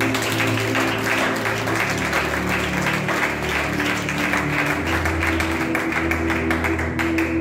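A church congregation applauding for the Lord, dense sustained clapping from many hands that fills the room at a steady loud level throughout, with no speech over it.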